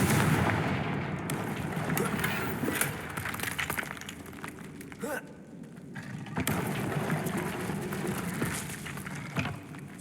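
Confringo spell explosions in the Hogwarts Legacy video game sound as loud, booming, crackling blasts with shattering debris, layered over dense game noise, with voices shouting at times.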